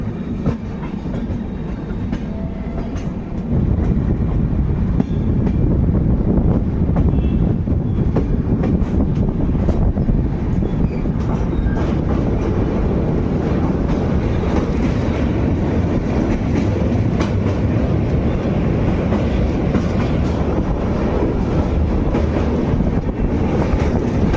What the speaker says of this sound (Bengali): হাজিপুর থেকে ট্রেনটা বেরিয়ে গেলো